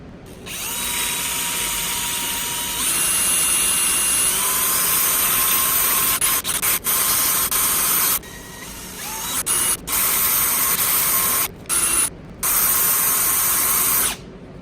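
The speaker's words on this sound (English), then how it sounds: "I am able to use the mandrel just like the previous ring that you saw to clean up the outside and put the finishing touches on the ring." A wooden ring being finished on a mandrel in a power tool: a loud, continuous high-pitched mechanical whir with a steady tone, cut by several brief stops and restarts toward the end, and no talking.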